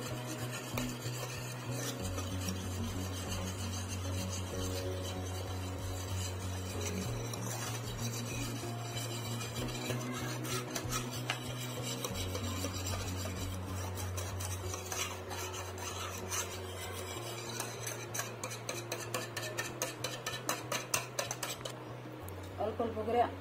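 Butter is whisked gradually into a marble cake batter made with flour and Eno: continuous close scraping and stirring strokes run steadily over background music.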